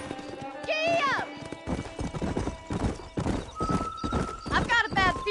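Horse galloping in Red Dead Redemption, with loud rhythmic hoofbeats up close and sharp neighs and whinnies between them, while a character speaks over the run.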